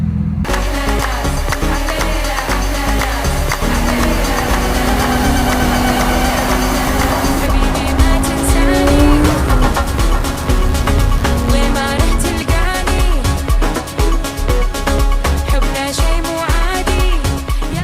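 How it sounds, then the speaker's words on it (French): Loud, steady engine roar from sports cars, a McLaren GT3 STO and a Brabus, out in the Dubai desert, with a rising rev partway through and engine noise filling the whole stretch. "Petite voiture de sport, GT3, McLaren, STO, Brabus, Dubaï."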